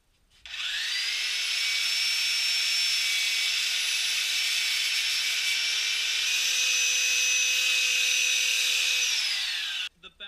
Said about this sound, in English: So now I'm going in with my belt sander and just kind of giving uniformity to the back of it.